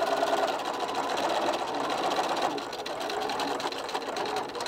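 Sewing machine stitching a fabric dog bone neck pillow, a fast continuous mechanical whir that runs steadily throughout, close and fairly loud.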